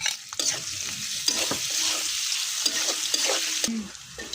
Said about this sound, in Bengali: এই তো তেল ঢেলে দিলাম, পেঁয়াজ রসুন কাঁচামরিচ ভেজে নিব এখন।